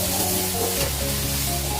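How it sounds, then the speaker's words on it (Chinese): Beef stir-frying in a hot wok with green and red peppers, celery and garlic just added, a loud, dense, continuous sizzle close by with slight clatter of stirring. "下青红椒、芹菜蒜"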